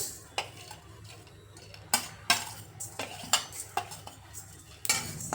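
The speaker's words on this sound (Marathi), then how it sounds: "तीळ पण याच्यासोबत छान असं भाजून घेऊया" Sesame seeds dry-roasting with coriander seeds in a pan, a metal spatula scraping and clinking against the pan in irregular close strokes over a faint seed rattle.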